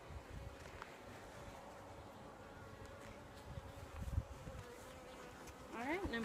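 A soft, continuous buzz of many honey bees hums around the hive, fairly faint and steady, with occasional closer passes.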